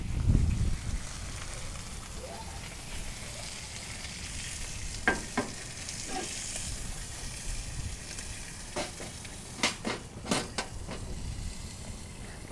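Sous vide pork chops sear in an outdoor pizza oven, giving a steady, soft sizzle and crackle throughout, with occasional sharp pops and ticks standing out, particularly in the second half.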